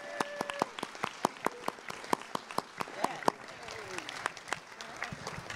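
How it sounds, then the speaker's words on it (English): A modest conference audience claps for a panel at the FOSSY 2023 open-source gathering, with sharp, scattered individual claps in a steady patter that thins toward the end, heard fairly faintly in a room. "Please give them a big round of applause."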